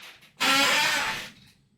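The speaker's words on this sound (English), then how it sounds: "All right, I'm gonna blow my nose." One person blows their nose in a single short, forceful nasal burst lasting about a second, close and fairly loud against near silence.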